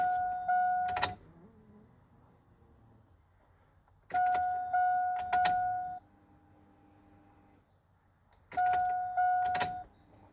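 An E85 fuel pump primes with the ignition switched on, giving three separate buzzing whirs of about two seconds each, each starting and ending with a click and separated by quiet gaps.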